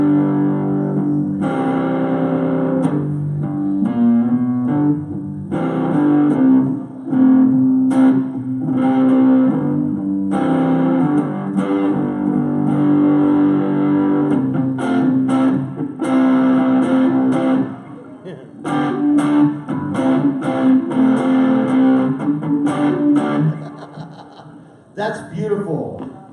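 A cigar box guitar played through a distortion effect with the tone rolled off, loud fuzzy sustained notes and riffs with pauses, filling the whole stretch.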